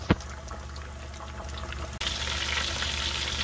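Catfish nuggets sizzle in hot frying oil, a steady close crackle that opens with a sharp pop and swells louder and brighter about halfway through, with no talking.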